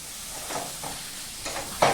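Fish curry masala with tomato being sautéed in a pan in a Bengali kitchen, with a low steady sizzle broken by a few soft scraping stirs and a sharper clatter at the end.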